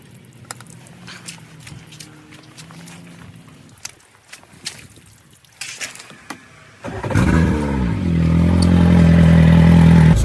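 Parsun 115 outboard boat engine running for a freshwater flush after brackish-water use; quiet clatter and knocks give way midway to a loud, steady engine drone that holds to the end.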